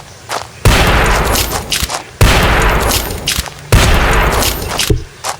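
Three loud bursts of rapid video game gunfire in a deer-hunting horror game, each lasting over a second with a decaying roar, separated by short gaps and scattered single shots.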